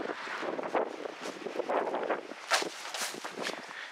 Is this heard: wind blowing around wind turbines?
yes